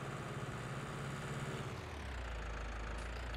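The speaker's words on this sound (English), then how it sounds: "Let's see if we can't pull up a tractor here real fast." A tractor engine in Farming Simulator 19 idles steadily with a low, constant drone that shifts slightly lower partway through, heard alone with no talk.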